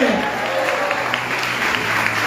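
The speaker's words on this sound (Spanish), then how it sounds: "dale palmas fuerte al Rey y a su nombre" A church congregation claps loudly and steadily, a dense, sustained wash of applause that fills the whole stretch, with a voice faintly underneath.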